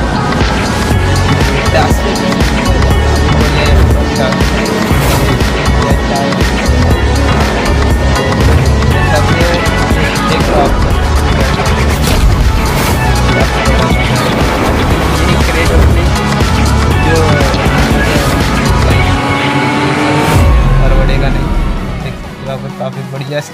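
Tesla car in the BGMI mobile game driving and drifting, a steady engine drone with tire and road noise running continuously at close range, fading out near the end.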